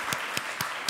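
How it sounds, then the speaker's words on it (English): Faint, sparse clapping from a small audience at an academic info-session, a handful of separate claps spaced about a quarter second apart, quiet and brief. "please one applause to her"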